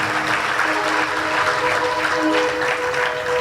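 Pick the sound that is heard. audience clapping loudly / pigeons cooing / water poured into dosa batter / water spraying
audience clapping loudly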